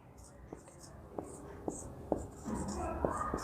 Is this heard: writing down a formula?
yes